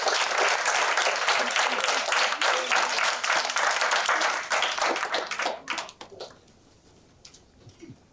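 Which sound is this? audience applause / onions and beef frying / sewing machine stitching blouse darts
audience applause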